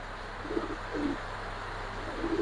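A silver Giribaz pigeon gives a few soft, low coos, faint and widely spaced over a steady background hum.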